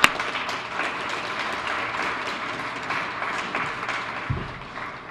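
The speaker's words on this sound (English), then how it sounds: "We need to give him a great round of applause." Applause from the crowd at a Detroit public library branch reopening for a staff member who helped with the renovation, a steady moderate wash of clapping heard from a distance, with a brief low thump near the end.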